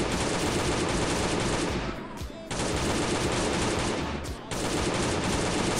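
Rapid sustained automatic gunfire in the survival video game Last Day on Earth, loud and dense bursts with two brief pauses between them.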